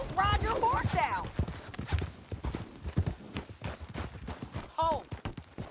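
Horse hooves clip-clopping in Red Dead Redemption 2 as a rider gallops, a quick rhythmic pattern of thuds running under several people talking and shouting, with a brief whinny-like squeal near the start and end.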